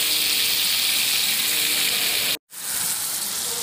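Taro (kochu mukhi) sautéing in a pan gives a steady, close hissing sizzle with bright crackle, broken by a brief silent gap near the end before the sizzle resumes at the same level.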